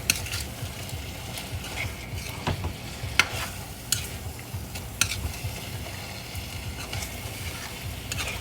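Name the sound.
stirring frying Indonesian spicy eggs with kaffir lime leaves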